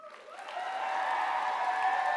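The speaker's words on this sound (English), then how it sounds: "one big round of applause for the team" An audience at a university College of Nursing evening event applauds and cheers for the team, a sustained wash of clapping and voices that swells within the first half second and holds steady.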